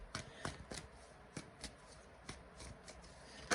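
Tarot cards being shuffled by hand in a series of quick, close riffling bursts that come in uneven rhythm, with no talking over them.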